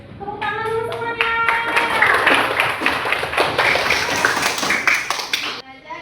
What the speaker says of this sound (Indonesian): Tepuk tangan dulu semuanya.